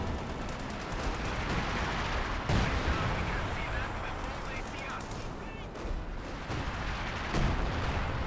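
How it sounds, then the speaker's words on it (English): A high explosive round striking in Company of Heroes 2 amid constant battle noise: a dense din of gunfire and thuds, with occasional heavier blasts standing out over the steady roar. "but takes high explosive round there"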